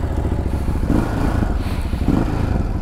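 A Ducati Hypermotard 950 engine rumbles steadily at close range, idling with a deep, throbbing clatter and slight swells in revs.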